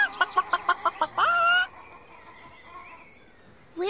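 A farm chicken clucks in a quick run of about seven sharp, evenly spaced clucks, then gives a longer drawn-out squawk; close and clear, with a faint high squeak afterwards and a brief bird call at the very end.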